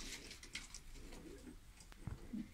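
Soft cooing from domestic pigeons of a Turkish breed sounds nearby, a couple of low calls among faint rustling and shuffling.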